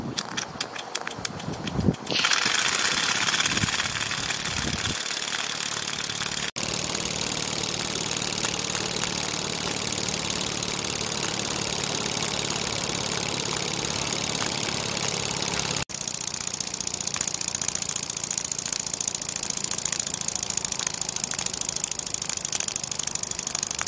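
A Chiltern model steam horizontal mill engine runs under steam test, a steady rapid chuffing and mechanical whir that holds at an even level throughout after a few scattered knocks and clicks at the start.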